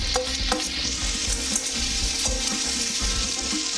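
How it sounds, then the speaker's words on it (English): Eggs, onion and garlic fry over high heat for fried rice, a steady loud sizzle running throughout with scraping stirs and occasional clinks, close up and with no voices. "We throw in our eggs, onion, and garlic."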